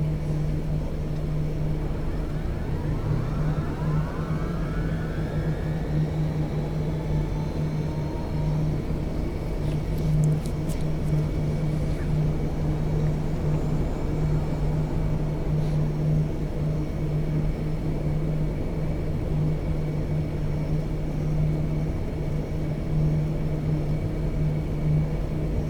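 Lockheed C-130 engine 3 spooling up in X-Plane 12, a rising turbine whine sweeping upward over a steady deep engine drone and hum that holds loud and continuous throughout.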